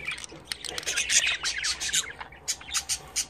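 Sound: budgerigar squawking

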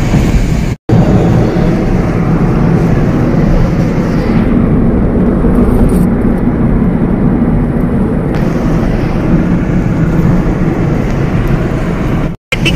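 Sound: vehicles driving on a bridge

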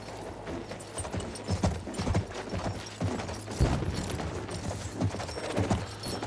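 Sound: horse hooves and neighing in the video game Battlefield 1

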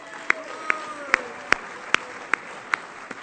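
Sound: audience applause at awards ceremony

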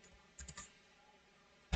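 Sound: typing on computer keyboard

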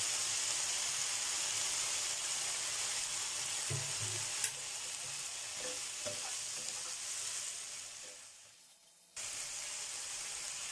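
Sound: stir-frying minced pork with pumpkin and holy basil

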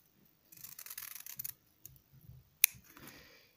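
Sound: scissors cutting ribbon for kanzashi

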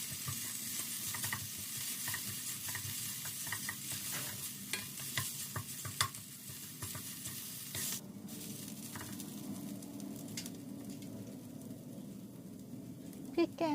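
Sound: stir-frying red curry paste in a pan

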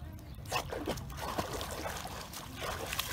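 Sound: dog drinking water

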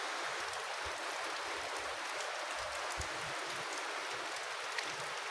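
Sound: rain falling

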